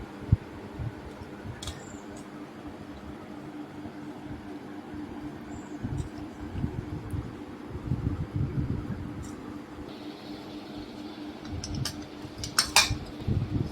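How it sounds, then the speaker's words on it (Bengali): Figs going into a pressure cooker to boil, with scattered metallic clinks and knocks of utensils against the pot over a low hum, close and moderately quiet, with no voices. "ডুমুরটা আগে আমি সেদ্ধ করে নিচ্ছি, তার জন্য দিয়ে দিচ্ছি কুকারে"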